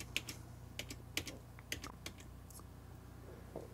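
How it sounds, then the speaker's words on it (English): Rapid, irregular keystrokes hammered on a computer keyboard while a mini ITX gaming PC powers up to reach BIOS, with sharp clicks in quick bursts, close and fairly clear over a low steady hum. "start smacking the keyboard."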